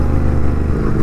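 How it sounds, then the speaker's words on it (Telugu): Superbike engine revving while the rider rev-matches on a road ride, a loud, steady close-up growl with clattery mechanical texture throughout and no talking. "రెవ్ మ్యాచింగ్ చేస్తున్నాడు, wow, sounds like a bless bro."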